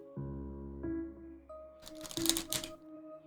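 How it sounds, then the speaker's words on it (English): A deck of playing cards being shuffled by hand, a short ruffling burst of riffled cards after a stretch of low tonal background sound. "I'm gonna try to shuffle this the best I can"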